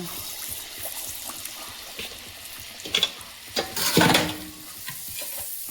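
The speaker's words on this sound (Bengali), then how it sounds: "এবার দুটো তেলের পিঠে তৈরি করে দিচ্ছি দেখো" Village-style taler pithe, palm fruit fritters, dropped into hot oil: a soft steady frying hiss that swells into a loud burst of bubbling and crackling as the batter goes in, then settles.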